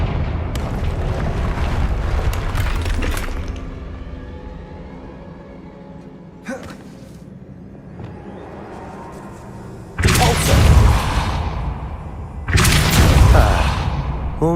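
Explosive Confringo spell blasts in Hogwarts Legacy, two loud broadband bursts erupting in quick succession after a rumbling stretch of game ambience and a brief crack, each blast roaring for about two seconds.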